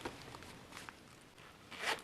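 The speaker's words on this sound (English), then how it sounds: "Okay, now, will it zip?" A zipper is drawn on a tight Hobonichi planner cover, a short, faint rasping zip at the end after a quiet stretch of handling.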